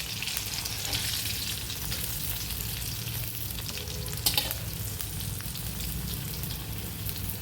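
Bitter gourd pieces frying in oil in a pan, a dense, even sizzle close up like steady rain, with a brief clatter of stirring near the middle and no talking.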